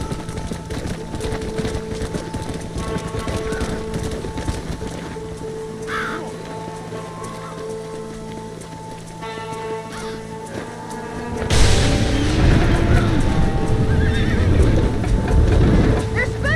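In the video game Red Dead Redemption, spooked horses whinny and gallop in a stampede. Loud hoofbeats surge in near the end under shouting voices, with crows cawing.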